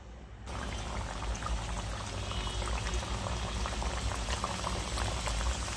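Used oil heating in a pan for deep-frying fenugreek mathri, a continuous bubbling, crackling boil that starts abruptly and stays steady and close.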